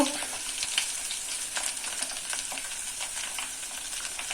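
Betel leaves and garlic sizzle steadily in hot ghee in a pan, a bright, continuous crackling fry with scattered pops, close and unbroken by talk.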